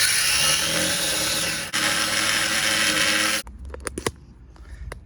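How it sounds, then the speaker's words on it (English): An angle grinder cutting through a stuck suspension drop link on a Renault Clio race car, a loud continuous high whine that dips briefly, runs on, then cuts out, leaving scattered metallic clanks and knocks. "I'm taking the grinder to this drop link, because this drop link ain't coming out, so I'm just going full bore."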